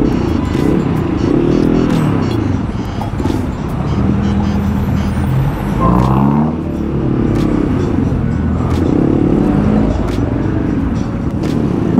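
Congested holiday-season road traffic with motorcycles: a dense, continuous drone of idling and revving engines close by, swelling and easing as vehicles crawl past, with voices occasionally audible over it.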